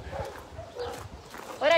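Dogs at a municipal dog kennel give scattered barks and yips in the background while people talk nearby, all fairly quiet.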